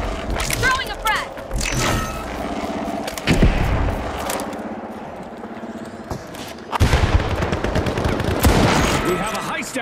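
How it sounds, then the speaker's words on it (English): In The Finals, a frag grenade is thrown and bursts with a deep boom amid dense, loud gunfire and chaotic combat noise, with a voice talking over it. "Frag grenade set! Throwing a frag!"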